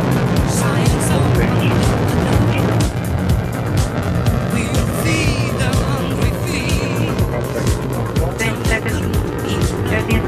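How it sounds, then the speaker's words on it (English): A Soyuz TMA-21 rocket lifts off with a loud, continuous broadband roar and rumble throughout, while a commentator talks over it. "Liftoff of the Soyuz rocket"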